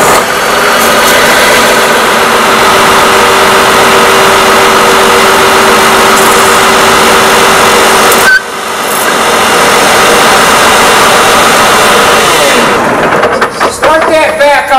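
A running engine drives a hydraulic cylinder, producing a loud, steady drone with a constant whine that breaks abruptly about halfway through, then resumes, with shifting mechanical tones near the end.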